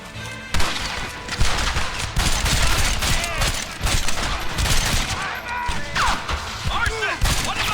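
A Gatling gun in Red Dead Redemption fires in a loud, continuous, dense barrage with crashes and impacts. Shouting voices come and go beneath it.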